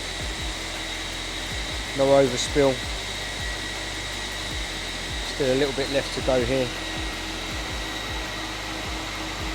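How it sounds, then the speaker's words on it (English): A vacuum drones with a loud, steady high whine as it sucks up water from a wet floor during chewing gum removal at Brixton Academy, while someone talks briefly over it twice. "The old vacuum."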